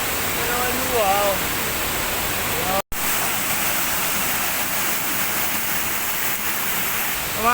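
Waterfall in a forest: a steady, loud broadband rush of falling water fills the whole scene, with people speaking and exclaiming over it and one brief dropout midway.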